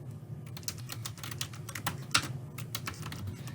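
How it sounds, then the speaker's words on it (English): Rapid typing of search terms on a computer keyboard in a library database, a steady run of close, crisp key clicks with a low hum underneath and no talking. "So we're going to start typing some search terms in."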